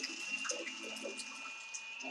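Water flows quietly and steadily from a solar-powered pump in battery mode, a soft continuous trickle with a faint tonal whine from the pump running beneath it.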